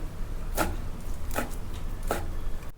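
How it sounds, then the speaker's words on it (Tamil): A knife chops washed moringa (drumstick) leaves finely on a board in a home kitchen, with three soft, evenly spaced strokes close by. "கழுவி வச்ச முருங்கைக்கீரையை இந்த மாதிரி நல்லா பொடி பொடியாக நறுக்கிக்கோங்க"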